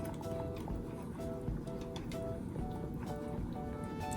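A thickening mixture is stirred steadily in a pot, giving close, rhythmic scraping and sloshing strokes over a constant background hum.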